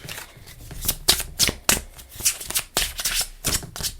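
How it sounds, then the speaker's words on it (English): A deck of tarot or reading cards being shuffled and cut, with brisk riffling bursts and soft slaps repeating unevenly throughout, close and fairly loud with no voices. "let's cut the deck again"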